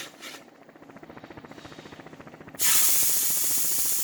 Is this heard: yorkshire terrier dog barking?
no